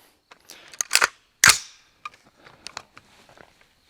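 An AR-15 rifle with a 16-inch barrel fires outdoors, a few sharp cracks with ringing reports, two loud shots close together followed by fainter clinks and echoes.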